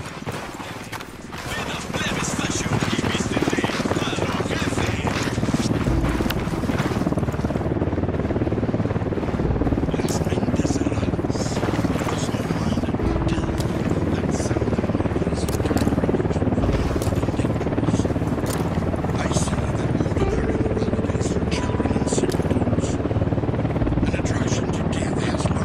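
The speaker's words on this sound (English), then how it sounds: "Helicopter inbound." A helicopter approaches in the Ghost Recon Wildlands video game, its steady, loud rotor roar filling the whole scene without a break.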